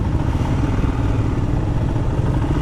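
A Royal Enfield Himalayan motorcycle engine runs nearby as a loud, steady, rough low rumble that continues without a break.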